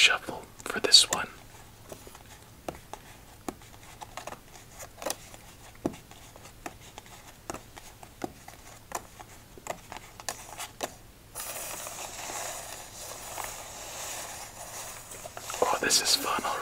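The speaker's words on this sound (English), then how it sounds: "let's do a casino shuffle for this one." Playing cards get a casino shuffle during an ASMR solitaire game, with sharp riffling snaps and soft taps spread through the clip, and a brief rush of card noise near the end under a quiet whispering voice.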